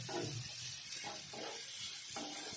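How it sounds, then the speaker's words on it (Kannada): Onions frying in oil in a pan for a dhaba-style egg tawa fry, with a steady sizzle and occasional stirring scrapes, close and moderately loud with no talking. "ಈಗ ಇದನ್ನ ಈರುಳ್ಳಿ ಕೆಂಪಾಗುವಷ್ಟು ಎಣ್ಣೆ ಒಳಗೆ ಫ್ರೈ ಮಾಡ್ಕೊತೀನಿ"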